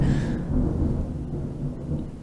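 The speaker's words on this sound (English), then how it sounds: "Did you hear the thunder?" Deep, loud rolling thunder rumbles continuously for a couple of seconds, low and heavy, with no voices over it.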